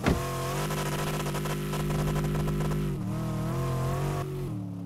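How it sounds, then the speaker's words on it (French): Van engine in the Dealer Simulator game roaring loudly and steadily, a sustained rev with a brief surge at the start and a shift in pitch partway through, with no talk. "Oh, le bruit du moteur, comment il hurle."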